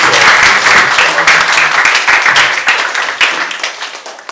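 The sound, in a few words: audience applause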